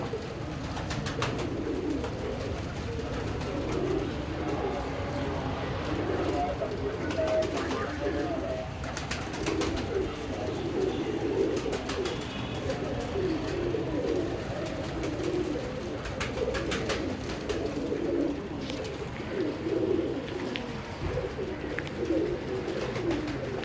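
Pigeons coo steadily at feeding time after washed grain is scattered, with soft overlapping calls from a flock, a constant low background bustle and occasional faint voices.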